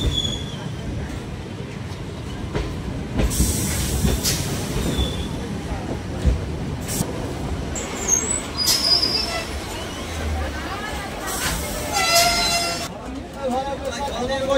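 A MEMU train entering Krishnanagar City Junction, heard from on board as a continuous rumble of wheels and carriages with rattling, brief squeals and clanks near the platform, and voices talking in the background.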